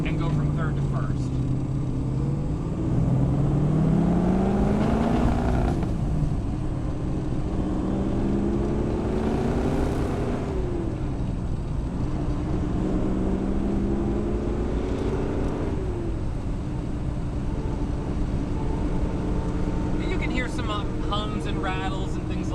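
A 1969 Ford Mustang Boss 429 drives along with its engine running, a steady close drone whose pitch climbs and drops repeatedly as it revs through the gear changes.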